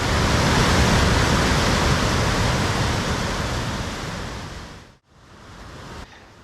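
A fast, powerful river rushes past the town of Dharchula, roaring loud and steady at close range, then dropping off abruptly and continuing more quietly.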